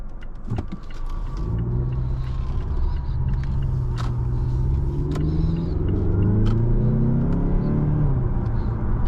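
A 2019 Mazda6 Signature accelerates from inside the cabin, its engine note rising through rising tones, steady and moderately loud with road rumble beneath and no talk.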